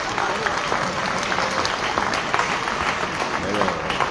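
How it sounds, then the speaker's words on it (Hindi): Seated students at a Hindi motivational lecture clap loudly for themselves, a thick, continuous patter of many hands at a steady level. "एक बार खुद के लिए जोरदार तालियां बजा दीजिए"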